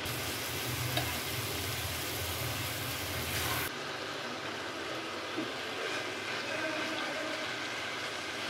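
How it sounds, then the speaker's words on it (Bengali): Fried taro pieces go into a pan of tamarind and spice masala, producing a steady broad hiss that drops in loudness partway through and continues more softly. "এখন একে একে ভাজা কচুগুলো দিয়ে দেব।"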